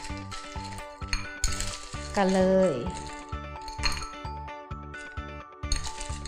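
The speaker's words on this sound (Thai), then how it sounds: "ใส่น้ำแข็ง" Ice cubes clink into a bowl of mangosteen in syrup with a string of bright chinks and a short rattling rush, set against a steady rhythmic music track while someone speaks briefly.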